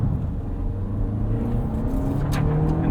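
A 2024 Lexus TX 500h F Sport hybrid with a 2.4 turbo engine, six-speed gearbox and all-wheel drive accelerates, its engine droning steadily and rising slightly over road rumble heard from inside the cabin.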